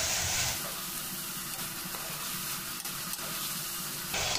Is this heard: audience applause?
no